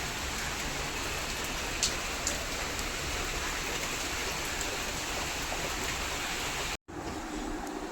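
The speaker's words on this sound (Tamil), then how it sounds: "பாருங்கள் மக்களே மழையை" Steady, heavy rain pours down continuously, a dense hiss of drops on surfaces, with a brief cut in the sound near the end.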